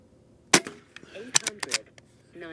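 A Gamo Arrow Classic air rifle fired at a 20-yard paper target: a sharp crack, then a quick cluster of further snapping shots, close and loud, with a faint voice near the end.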